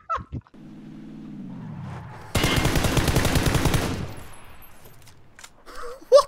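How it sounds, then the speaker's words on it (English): Rapid automatic gunfire in the shooter game PUBG crackles in a dense burst of about a second and a half, following a low rising hum and preceded and trailed by faint clicks. "There's a guy shooting."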